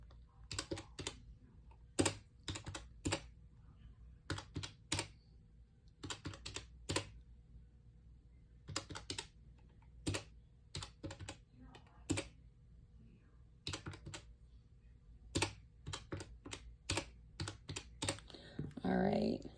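Calculator buttons pressed in quick bursts of sharp clicks while totaling a cash-stuffing budget, the taps close and distinct with short pauses between runs, a voice rising briefly at the end.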